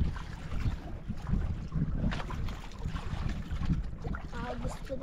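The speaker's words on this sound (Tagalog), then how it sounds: "Mas lalong lumakas ang hangin, lalong lumakas din ang agos" Strong wind buffets the microphone on a small fishing boat at sea, a constant rough roar with gusting surges and water sloshing underneath, close and loud, with faint voices now and then.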